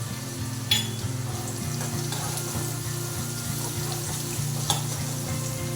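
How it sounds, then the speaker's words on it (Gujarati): Chopped green chili sautés in hot oil in a pan for a red okra (bhinda) curry, a steady close sizzle with a couple of sharp utensil clinks over a constant low tonal background. "આપણે આ મરચું જે કાપેલું છે એ નાખી દેવાનું છે"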